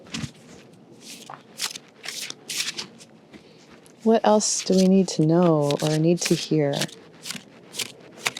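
Oracle cards are shuffled by hand in a garden, giving a crisp rustling and flicking that runs throughout and gets louder near the end, under continuous speech.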